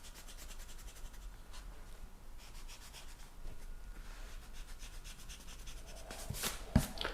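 Pencil lines being erased from a guitar body drawing on paper, a steady soft rubbing that runs throughout, faint and close, ending in a few sharper strokes.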